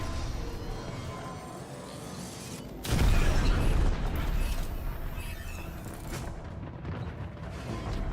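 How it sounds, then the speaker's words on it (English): A cruise ship reactor detonates in a video game: a sudden loud low boom breaks over a rumbling mechanical background, then decays into a long creaking, roaring tail before quieter game ambience returns. "Cruise ship reactor has detonated."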